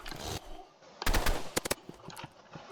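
Video game gunfire in a Roblox PvP match: a short burst of rapid shots, then scattered single cracks and a few fainter pops, fairly quiet overall.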